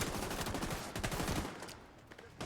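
Gunfire in the video game The Division 2 crackles in a rapid burst of automatic shots for over a second, then drops away, fairly loud and alone.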